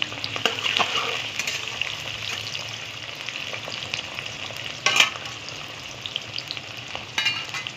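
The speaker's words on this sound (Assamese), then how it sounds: "পিঁয়াজখিনি ধুনীয়াকৈ ব্ৰাউন হ'বলৈ অকণমান ফ্ৰাই কৰি লওঁ।" Onions fry in a pan with a steady, moderate sizzle, broken by a few louder crackles and stirring bursts.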